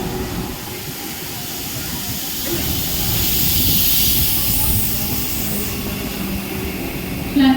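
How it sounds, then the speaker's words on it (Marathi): A fast Mumbai suburban local train bound for Badlapur pulls into platform 3 at Vikhroli station, a steady broadband rumble and hiss that swells in the middle and eases off, with no talk. "10:33 की बदलापुर जाने वाली तेज लोकल थोड़े ही समय में प्लेटफॉर्म क्रमांक 3 पर आ रही है"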